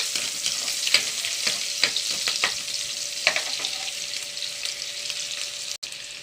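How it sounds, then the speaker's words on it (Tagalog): Onions frying in oil left over from frying fish, a steady crackling sizzle with sharp intermittent pops and stirring clicks, close and without talk. "Diyan natin ipiprito ang ating sibuyas"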